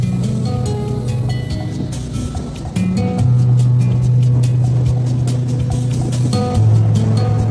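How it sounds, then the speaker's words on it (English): A dive boat motors through a passage in a Pacific lagoon, its engine droning steadily with tonal hum that shifts pitch, loud and close with water noise underneath. "The dive boat makes its way through the passage in the lagoon"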